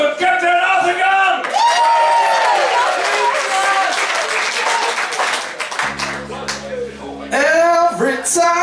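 An audience applauds and cheers for a band at a live concert at Patronaat. Steady, loud clapping runs throughout, with whoops on top and a low hum near the end.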